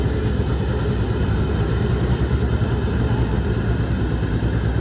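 An air-cooled VW Beetle drag car engine runs at a drag strip with a steady, rough, low rumble, loud and continuous with no revving changes over the few seconds.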